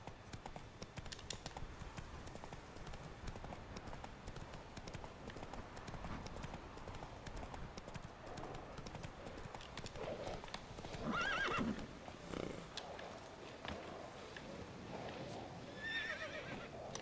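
Roach, a horse in The Witcher 3, gallops with steady rapid hoofbeats throughout, and a whinny breaks out near the end over the continuous rumble of movement.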